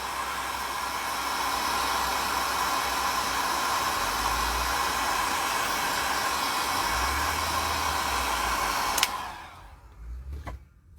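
A hair dryer blows steadily and loudly on wet paint for about nine seconds, then switches off with a click, leaving a faint quiet tail.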